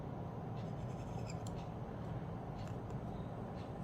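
A calligraphy pen scratches across paper while writing Diwani script, a faint, close, continuous scraping with a few small ticks.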